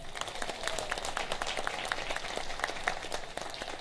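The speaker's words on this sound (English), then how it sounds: "let's give them a round of applause" Applause for honorees at a women's history community event in the Bronx, fairly faint and distant, with individual claps standing out over a steady patter of many hands.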